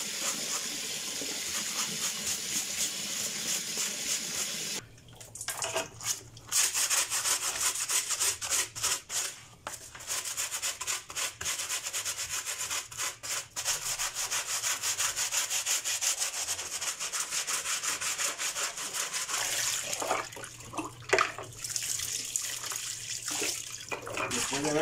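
A tactical or bulletproof vest is scrubbed vigorously by hand in water, giving a long, steady stretch of rough rubbing and swishing strokes up close, with brief pauses between bouts.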